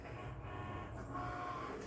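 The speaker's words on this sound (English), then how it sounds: "You'll see it cutting here." A cutting machine runs with a steady, dense mechanical whir and hum, continuous and unchanging throughout, with no voices.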